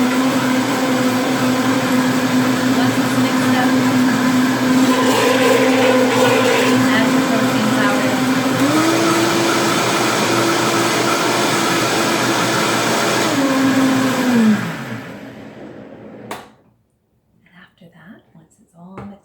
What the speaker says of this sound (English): I always add the protein powder a little bit later so that I can allow the smoothie to mix up a bit